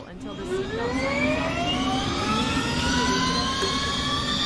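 De Havilland Dash 8-100 turboprop engine in a simulator spooling up, a steady loud whine whose tones rise steadily in pitch over a low rumble, continuous throughout.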